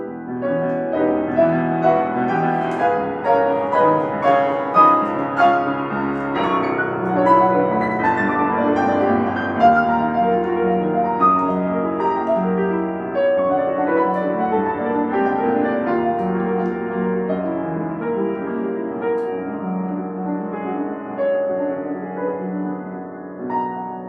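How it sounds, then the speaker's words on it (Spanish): A solo piano plays the climax of Ravel's Gaspard de la Nuit, with loud, dense chords and rapid figures ringing out continuously and close, no voices. "Esto es Gaspar de la Nuit de Ravel y el clímax de esta obra suena así."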